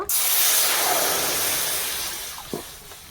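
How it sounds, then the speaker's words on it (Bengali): Water poured into a hot wok bursts into a loud, steady hiss of steam that slowly fades over about two seconds, followed by a brief clunk. "কড়াতে জল দিয়ে দেব"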